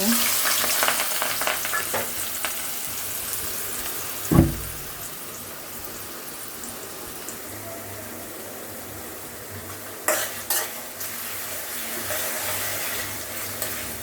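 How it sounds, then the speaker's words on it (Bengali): Onions sizzle and crackle steadily in hot oil in a kadai, with a couple of clanks from a spoon or pan along the way. No one speaks. "এবার বেরেস্তাগুলো ভেজে নিব।"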